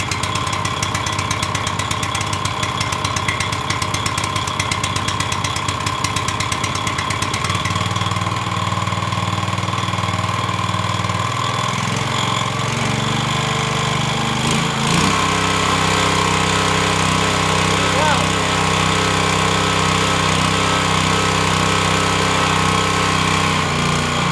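Pramac S2800 portable generator engine running steadily after choking, a loud continuous mechanical drone whose pitch and tone shift around the middle as the choke is eased, with no talking.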